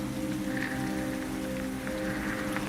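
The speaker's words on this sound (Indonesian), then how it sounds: "Hujan turun dengan derasnya di kerajaan Raja Hante." Heavy rain pours down steadily, a dense, continuous patter on surfaces close by with no gaps and no voices.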